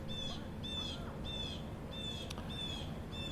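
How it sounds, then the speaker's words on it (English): Birds singing outdoors on a late summer day, one bird repeating a short high chirping phrase about every half second, fairly clear over a steady low outdoor hum, with no talking. "The birds are out"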